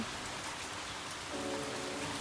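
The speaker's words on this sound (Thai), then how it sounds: "ฝนก็ยังตกอยู่เรื่อย ๆ ค่ะ" Steady rain falling outside a house in Italy, a continuous dense hiss of drops on surfaces, even and moderately close, with no voices.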